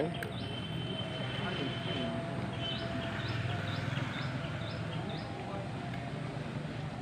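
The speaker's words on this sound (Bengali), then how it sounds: "আমাদের নৌকা যাচ্ছে নদী দিয়ে।" A boat moves along a river near Batanagar, with a constant low engine hum and water wash, and a series of faint high chirps partway through.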